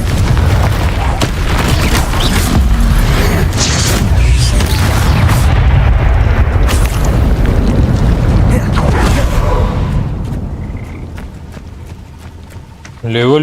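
Confringo fire spell blasts in the Hogwarts Legacy video game, loud booming explosions and rumbling impacts packed densely over a sustained battle roar that eases off near the end.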